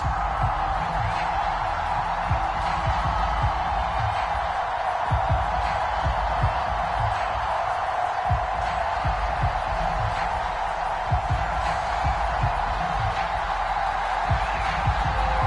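Home crowd at a Miami Dolphins versus Las Vegas Raiders game in Madden 22, a steady distant roar of cheering spectators running throughout with faint voices mixed in.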